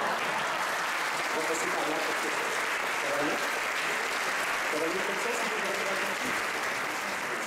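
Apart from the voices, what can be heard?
audience applause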